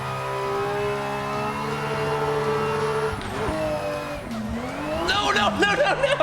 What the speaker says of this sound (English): Just about to be a full track drift right here.